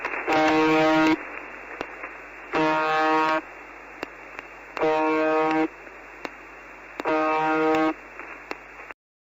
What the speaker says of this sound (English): Some believe the buzzer is part of Russia's military communications network